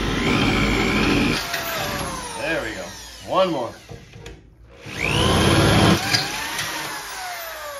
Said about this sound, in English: So I'm just drilling two new holes completely through everything.